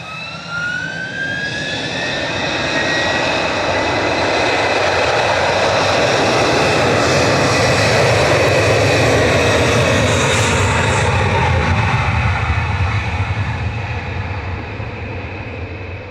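An Aer Lingus jet airliner, flight 935 to Orlando, powers past at Manchester Airport, a loud, close jet roar that swells over several seconds, with a rising whine early on, then slowly eases away, no speech.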